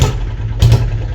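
A chhakda rickshaw engine idles close by in a loud, low, chugging rumble, with a brief surge partway through the short burst.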